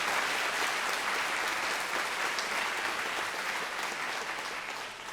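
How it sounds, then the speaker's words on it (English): A live audience at a political comedy show claps steadily throughout, a dense, continuous wash of applause that eases slightly near the end. "Clap if you think this was Samuel Alito."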